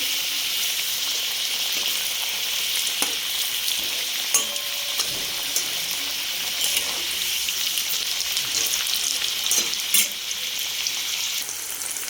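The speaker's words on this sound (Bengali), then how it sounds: "বিরিয়ানি আলু বিরিয়ানির জন্য আলুটাকে ভেজে নিচ্ছি" Potatoes fry in hot oil for biryani with a loud, continuous sizzle, broken now and then by soft stirring scrapes, heard close up without any talking.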